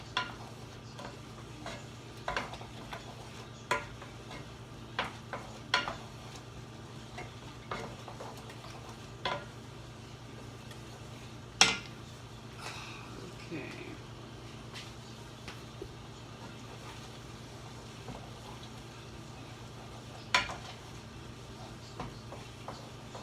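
Mushroom risotto with asparagus being stirred in a pot, quiet scraping and soft clicks of the spoon against the pot at irregular intervals over a faint steady hum.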